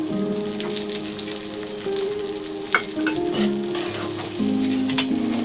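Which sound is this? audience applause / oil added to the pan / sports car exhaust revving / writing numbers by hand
oil added to the pan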